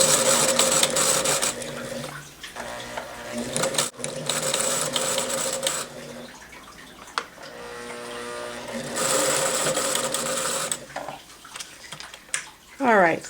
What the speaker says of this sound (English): you're going to stitch all the way around, remembering to keep this taut